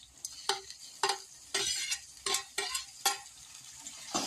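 Garlic, green chili, onion and tomato sauté in hot oil for a Tamil eggplant kara kuzhambu, with a spoon stirring in regular scraping strokes about every half second over a soft, continuous sizzle.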